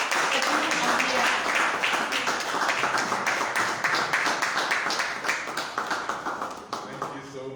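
Applause from an audience at a meet-and-greet event welcomes a speaker, dense and steady clapping that thins into scattered individual claps near the end.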